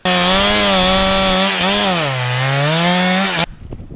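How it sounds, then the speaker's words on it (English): A STIHL MS 500i fuel-injected chainsaw roars loudly and close, its engine pitch dipping as it bites into wood, then stops abruptly near the end. "Today it's all about wood cutting and chainsaws."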